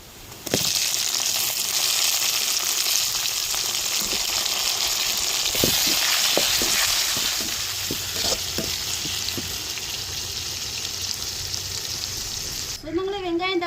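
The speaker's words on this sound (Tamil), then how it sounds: "வத்தல் தக்காளியும் கத்திரிக்காயும் இந்த எண்ணெயிலே வதக்கி எடுத்து" Dried tomato and eggplant sizzle steadily in hot oil, close and loud, with a few scraping stirs partway through and a brief clatter at the end.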